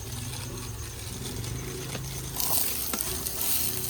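Chopped onions dropped into hot oil after green chillies were roasted, giving a steady close sizzle that grows louder and brighter partway through, with no talking.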